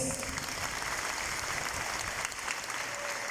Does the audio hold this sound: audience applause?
yes